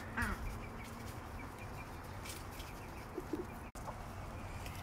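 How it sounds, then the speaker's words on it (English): Barnyard duck sitting on a clutch of eggs among chickens, with soft quacks and clucking poultry calls close by over steady coop background noise. "look at this silly duck"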